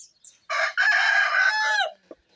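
A farmyard rooster gives one loud, close cock-a-doodle-doo, a single drawn-out crow lasting about a second and a half, with a couple of short faint clucks around it.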